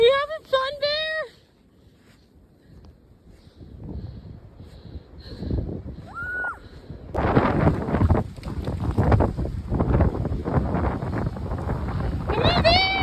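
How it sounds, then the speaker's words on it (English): Strong blizzard wind buffets the microphone outdoors near a playground, a steady rushing roar that swells and grows louder partway through, with a dog and people talking briefly at the start and end. "Wow, yeah, the wind just picked up."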